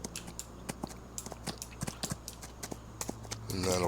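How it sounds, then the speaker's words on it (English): Horse hooves clip-clop steadily while horses are ridden in Farming Simulator 25, a quick, even rhythm of light hoof strikes, moderately close, ending in a louder rushing burst. "get these horses ridden"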